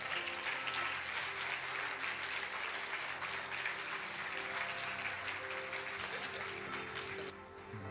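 Steady, dense applause from a large church congregation, sustained throughout, easing slightly near the end.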